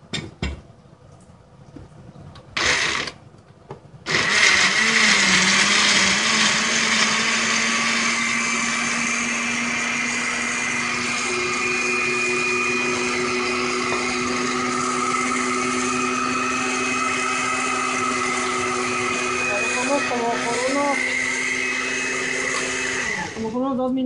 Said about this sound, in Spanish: Ahora sí vamos a licuar la salsa.